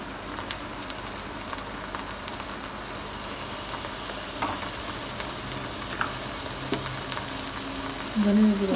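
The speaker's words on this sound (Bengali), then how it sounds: "এখন সুন্দর করে পেঁয়াজটাকে লাল লাল করে ভেজে নিবে। রসুন বাটা দিয়ে দিল, এখন জিরা বাটা" Onions frying in oil with garlic paste and cumin paste, a continuous soft sizzle and crackle throughout with faint stirring, turning louder and more hissing near the end.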